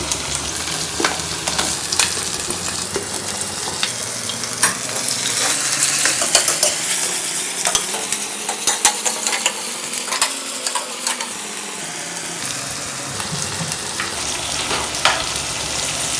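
Onions frying in a pan for a Kerala-style sardine curry sizzle steadily up close, broken by repeated scrapes and clinks of a spatula stirring against the pan throughout.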